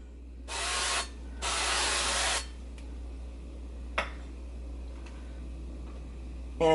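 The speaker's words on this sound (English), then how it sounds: "I'm going to spray the grill grate." Two long hissing bursts of cooking oil spray onto a Ninja Foodi grill grate, close and fairly loud, followed by a sharp click and a few faint clatters against a low steady hum.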